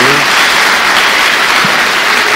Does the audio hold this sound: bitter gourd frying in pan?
no